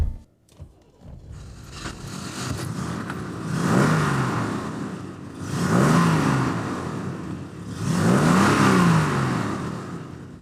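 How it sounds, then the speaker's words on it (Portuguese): A BMW E23 735i with its inline-six engine revs hard three times, each rising surge swelling loud and close before easing back, with no talk over it. "não consigo superar esses 6 cilindros em linha da BMW"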